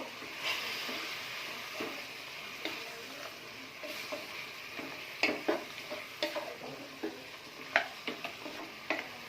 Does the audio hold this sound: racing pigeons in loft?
no